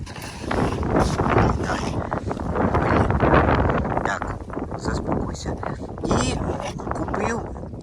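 Strong wind buffets the microphone in heavy, gusting rumbles, with someone talking loudly over it.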